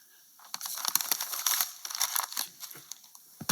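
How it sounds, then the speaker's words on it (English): A sheet of paper being crumpled up by hand in a classroom, a close series of crackling, crinkling bursts that rise and fall irregularly with brief pauses between squeezes. "Crumple it up."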